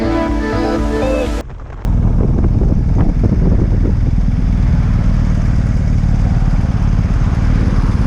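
BMW GS adventure motorcycles on the road near Maleny, Queensland, their engines droning steadily and loud after a brief musical lead-in, with wind rush and clatter throughout.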